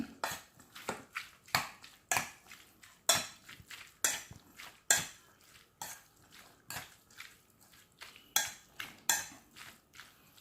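A metal utensil scrapes and clinks against a pan again and again while ground chili paste is stirred into pork larb. The taps are crisp and uneven, close up, with no talking.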